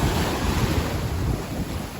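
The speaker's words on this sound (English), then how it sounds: "Waves are quite rough, to be fair." Rough surf breaks steadily along a Western Australian coast near Kalbarri, a continuous loud wash of waves mixed with heavy wind buffeting the microphone, with no talking.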